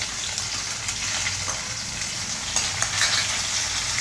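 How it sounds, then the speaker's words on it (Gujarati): Chopped onion and green chillies sauté in hot oil over a medium flame, giving a steady close sizzle and crackle with occasional stirring scrapes in the pan and no talk. "થોડું સાંકળી દો મીડિયમ ફ્લેમ ઉપર બરાબર."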